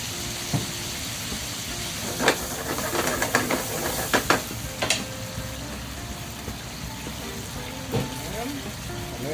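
White wine poured into a pan of octopus for a bucatini tomato sauce, giving a steady broadband hiss and sizzle throughout with a few sharp crackles and clinks, close and moderately loud.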